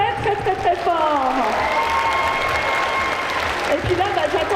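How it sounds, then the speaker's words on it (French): Loud audience applause and cheering at a cosplay contest at a geek festival in Bordeaux, a dense continuous roar of clapping with whoops and shouts rising over it and a voice talking underneath. "Donc vous pouvez les applaudir très fort"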